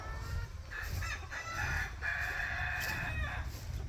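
Rooster crowing among farm chickens, a drawn-out cock-a-doodle-doo rising over steady clucking and low barnyard rumble, fairly close and loud throughout.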